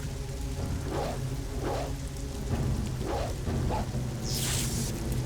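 Thunder from a lightning spell in the Neverwinter Nights video game crackles and rumbles over a steady rain-like hiss, with several short buzzing zaps and a brighter sizzling burst near the end.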